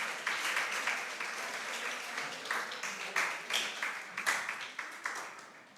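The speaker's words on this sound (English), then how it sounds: "Let's give our boy a round of applause." Applause from the audience at a national children's reading competition at Salybia Primary School, a steady patter of many hands at moderate level, sustained and fairly distant with no voices.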